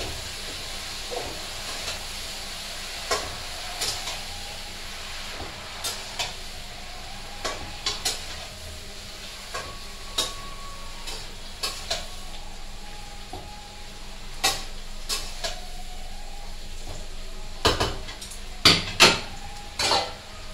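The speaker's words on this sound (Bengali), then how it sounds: "লবণটা দেবো, নাড়াচাড়া করে দিচ্ছি।" A spatula stirs bottle gourd and hilsa fish in a frying pan with added salt, making a steady, close sizzle punctuated by intermittent metallic scrapes and clinks against the pan.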